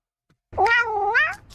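A cat lets out one drawn-out, wavering meow close to the microphone, loud and alone after a moment of near silence, with the pitch bending up at the end.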